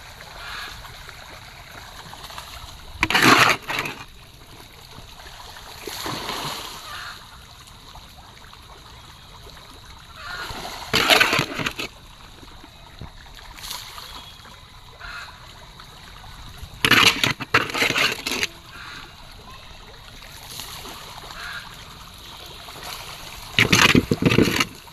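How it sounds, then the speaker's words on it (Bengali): Fish splashing at the surface of a pond while eating rice feed, several distinct bursts of splashing repeating every few seconds over quiet outdoor water ambience. "দেখুন মাছ কিভাবে খাচ্ছে।"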